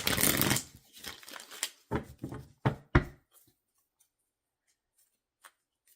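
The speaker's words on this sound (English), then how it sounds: "Let's shuffle up these cards a bit." Crisp riffling and slapping of tarot cards being shuffled in several quick bursts, close by, then silence.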